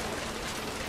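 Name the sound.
rain in the video game What Remains of Edith Finch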